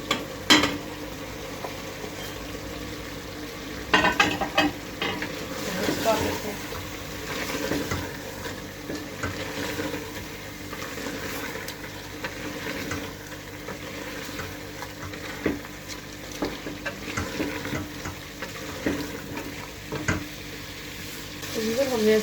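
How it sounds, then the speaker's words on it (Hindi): Goat liver with spices frying and being stirred in a pan, a steady close sizzle broken by repeated scraping stirs and occasional utensil knocks, with no talking over it. "इसको हम 2 से 4 मिनट जो है वो अच्छे से फ्राई करेंगे, और मसाला ताकि इसमें अच्छे से रच जाए।"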